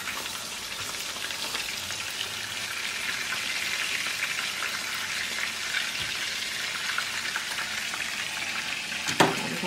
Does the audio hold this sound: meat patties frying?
yes